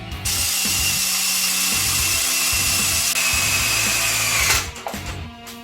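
A power drill bores a hole in a C5 Corvette aftermarket seat bracket, a steady loud whine with a grinding undertone that runs for several seconds and then winds down, close up and with no talking.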